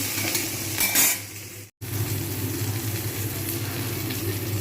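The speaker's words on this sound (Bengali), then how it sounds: "তেলের মধ্যে বেগুনগুলো ভাজতে শুরু করেছে" Steady sizzling of eggplant frying in hot oil, a brief clatter near the start and a moment of silence before the sizzle resumes.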